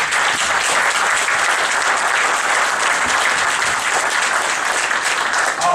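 Steady applause from an audience at a Minnesota legislative update event, dense and sustained clapping throughout with no pauses.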